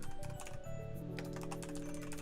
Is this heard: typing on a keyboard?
yes